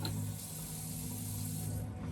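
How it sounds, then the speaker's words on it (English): A tap runs hot water into a container for a short steady stretch, a close, even hiss with a low hum underneath and no talking. "when you're filling up your water, you want to fill it up with hot or warm water to help this steam up quicker"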